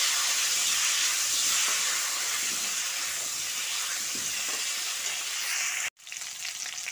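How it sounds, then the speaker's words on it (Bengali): New potatoes, three cut into long strips, frying in hot oil, giving a loud, steady, close sizzling hiss that continues unbroken, briefly cuts out near the end and then resumes. "এবার তেলের মধ্যে আলুটা দিয়ে দিচ্ছি। আলুটা এখন একটু ভেজে নেব।"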